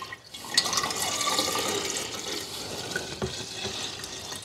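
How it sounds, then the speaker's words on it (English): Strained cow's milk is poured into a glass jug, making a steady liquid stream with gurgling and splashing, close up and fairly quiet. "we take the milk that we strain and we just pour it into the glass jug."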